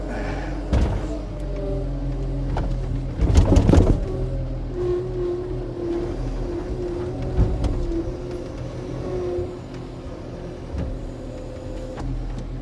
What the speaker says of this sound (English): I'll park this skid steer and